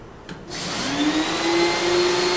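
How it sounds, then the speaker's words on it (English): A small carpet cleaning machine rinsing carpet starts up after a brief knock and rises into a loud, steady vacuum-like whine that holds to the end, near and alone. "you can grab this little machine and just take off, and it will do the rinsing"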